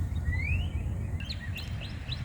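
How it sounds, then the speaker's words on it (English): Birds chirping outdoors in Austin, Texas: a rising whistle followed by several short, bright chirps repeated in quick succession, fairly close, over a low rumble of background noise. "Is it just me or are the birds more loud? Yeah, they're way more active."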